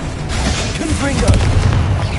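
Confringo explosive spell blast in Hogwarts Legacy, a booming fiery burst with rumbling low-end that builds and lingers across the clip, heard amid game effects and a voice.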